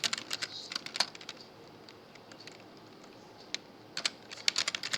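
Code being typed on a computer keyboard, bursts of quick, close key clicks with a pause in the middle, then a few more keystrokes toward the end, no voices.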